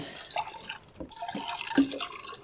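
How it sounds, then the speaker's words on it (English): Water poured into a terrarium being set up, a few light drips and trickles splashing close by, faint and intermittent with no voices. "pour me some water in."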